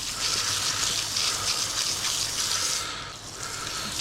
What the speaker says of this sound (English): rinse them off real good outside here